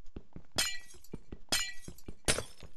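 Glass windows shatter in the video game Minecraft: three bright, crashing breaks spaced about a second apart, with lighter clicks and taps between them.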